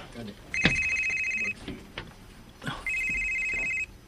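A mobile phone rings from inside a pocket in two bursts of a steady electronic ringtone, each about a second long, with brief bumps and rustling between them.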